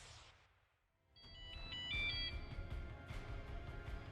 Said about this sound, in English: We're getting a phone call, apparently.